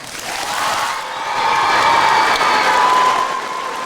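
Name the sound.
applause and cheering for veterans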